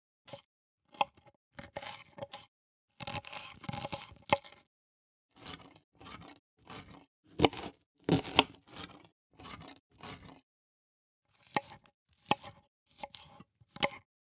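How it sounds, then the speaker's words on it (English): Knife slicing on a wooden cutting board as a foley effect: a series of short, crisp cuts and scrapes in uneven bursts, some quick doubles, close and dry with silence between strokes. "here I have a slicing on a wood board"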